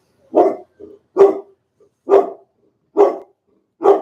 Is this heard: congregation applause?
no